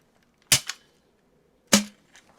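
Two sharp pops from a CEDA Model S Nerf blaster being dry-fired to test its plunger seal, about a second apart, each followed by a short echo and the second ending in a brief low ring, in a quiet room.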